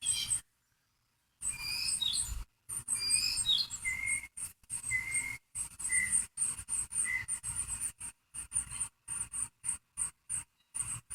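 High, thin bird chirps and tweets repeat outdoors over a faint insect-like buzz, broken by frequent brief gaps of silence.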